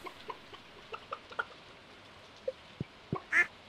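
A void chicken in Stardew Valley clucks in a scatter of short, soft clucks and pecking clicks spread unevenly across a quiet farm scene, closing with a couple of louder, sharper cluck sounds, with no one talking.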